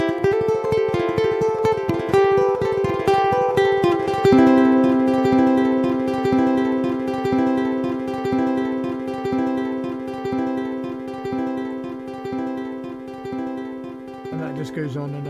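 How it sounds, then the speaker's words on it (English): A musical passage played through a heavy-duty delay effect, its notes repeating again and again as echoes stack up and gradually fade, loud and continuous with no voice present. "I've put a really heavy duty delay on this,"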